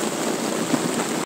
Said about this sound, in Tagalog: Lakas ng ulan o.